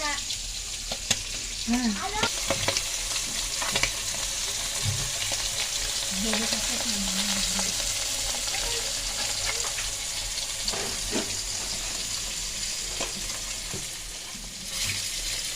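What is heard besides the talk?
pangas fish frying in oil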